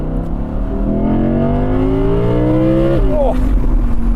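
An Audi R8 Spyder engine rumbles low and loud up close, its pitch rising steadily under load before it drops sharply at a gear shift, with a voice speaking over the drone.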